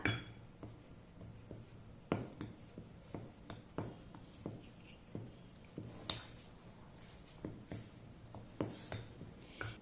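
A spoon mixing apple cake batter with salt water in a bowl: repeated light clinks and taps against the bowl in an irregular rhythm, close and fairly quiet.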